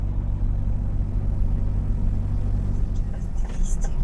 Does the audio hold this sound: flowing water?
no